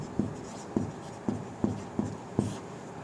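Writing on a board during a chemistry lecture makes six quiet, evenly spaced taps and scratches of strokes, about half a second apart, in an otherwise hushed room.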